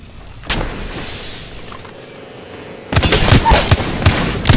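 Bursts of gunfire in the battle royale game Apex Legends: a single sharp shot early on, then a rapid, loud volley of close shots firing in quick succession.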